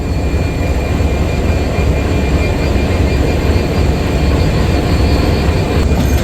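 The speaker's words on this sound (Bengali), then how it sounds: "আন্তনগর সীমান্ত এক্সপ্রেস চার নম্বর প্ল্যাটফর্ম থেকে ছেড়ে যাচ্ছে" Simanta Express intercity train's locomotive pulling away from platform four, a loud, continuous low rumble of engine and rolling wheels close by, steady throughout with no voices.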